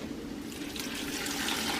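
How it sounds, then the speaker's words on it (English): Broth pours back into a pot of homemade chicken noodle soup, a steady, continuous liquid splashing and trickling close by, with no talking. "Now we're going to start pouring our broth back in."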